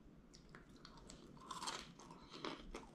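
Crunchy homemade condensed milk macaroons, toasted after 18 minutes at 325 degrees, bitten and chewed close up, with repeated crisp crunches and wet chewing for several seconds and no talking.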